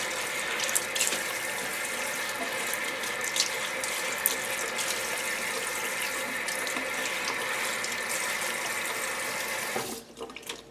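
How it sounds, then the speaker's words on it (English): Escarole greens rinsed under a running kitchen sink tap, a steady close hiss of flowing water with light splashing and occasional clinks, cutting off abruptly near the end. "Okay, so we're done washing them."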